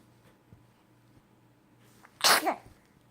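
A penguin gives a single sharp, close sneeze after a couple of seconds of quiet background.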